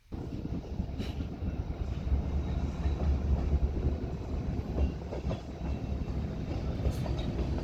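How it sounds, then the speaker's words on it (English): CSX locomotives rumble past at close range, a steady low roar with rail clatter running alongside, continuous throughout with some wind buffeting the microphone. "Those are our CSX locomotives"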